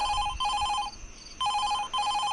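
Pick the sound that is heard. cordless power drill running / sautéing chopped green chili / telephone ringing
telephone ringing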